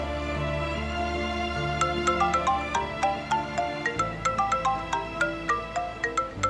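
A mobile phone ringtone plays a repeating melodic electronic tune indoors, its tones pulsing in a steady rhythm, clear and fairly close, with no talk over it.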